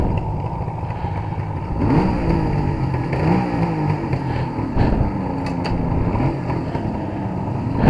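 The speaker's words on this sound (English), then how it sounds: "It's nice to have an electric starter though." Suzuki GT750A classic motorcycle engine, started on its electric starter and revved: a steady, loud, close exhaust drone that rises and falls through several throttle blips.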